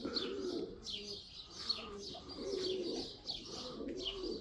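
Birds gather where feed has been scattered on the ground, and pigeons coo low and rhythmically, repeating the call several times while higher chirps overlap at a moderate distance.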